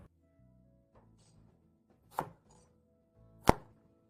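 A knife cutting asparagus into bite-sized pieces, with two separate sharp chops, the second louder, in an otherwise quiet setting.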